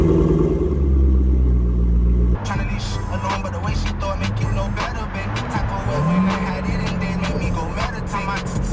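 A C6 Corvette's V8 exhaust with Corsa catback mufflers rumbles deeply at idle, then revs up and settles into a throaty burble, loud and close.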